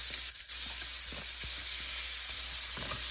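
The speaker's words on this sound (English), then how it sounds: "All right, got a little butter added to the pan." Fish sizzling in butter in a pan outdoors, a steady loud frying hiss with occasional soft scrapes and stirs, no voices.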